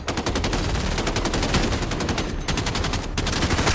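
Rapid, sustained automatic gunfire in Call of Duty: Modern Warfare (2019), loud and close, with dense bursts of shots running almost without pause throughout.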